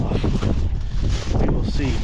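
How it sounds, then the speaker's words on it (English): Wind blusters across an outdoor work site in broad, continuous rumbling gusts that stay loud throughout and dominate the sound, with no clear voices standing out. "Oh, it's windy."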